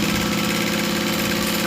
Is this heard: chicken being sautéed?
no